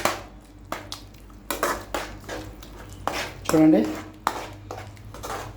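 A spoon stirs a bubbling tomato curry in a pan, giving a run of sharp clinks and scrapes against the metal at an uneven pace, with a voice talking over the stirring.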